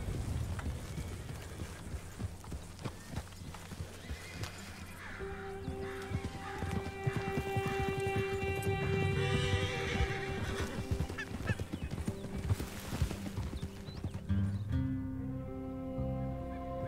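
A horse in Red Dead Redemption 2 clip-clops and neighs during a storm, hoofbeats in a loose rhythm and a whinny rising midway, with game music and ambience underneath and no talking.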